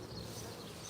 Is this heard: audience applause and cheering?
no